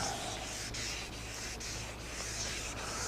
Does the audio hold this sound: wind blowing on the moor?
no